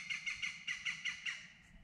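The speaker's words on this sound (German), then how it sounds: "Oh, schön, der Vogel." A bird in forest calls in a quick series of about seven bright, squawking chirps, fairly close and clear, with a faint later note, heard during a rest stop on a hiking climb with no talk.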